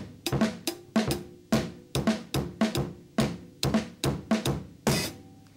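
A drum kit plays a 3-on-4 polyrhythm, crisp cymbal crashes and snare and kick strokes in an uneven repeating pattern, close and full, heard alone without any voices.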